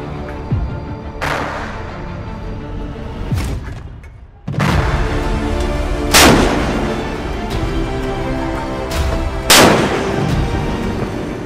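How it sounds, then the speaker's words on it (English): Mk-45 naval gun firing, a series of about five heavy booming shots several seconds apart, each a sharp loud blast followed by a rumbling decay, with no talk. "Its high rate of fire and ability to fire long-range projectiles makes it ideal for supporting surface combat"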